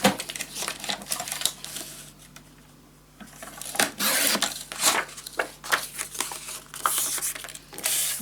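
Paper is cut for a scrapbook storage tower, giving a run of close, dry rasping snips and scrapes in uneven bursts, with a brief lull partway through.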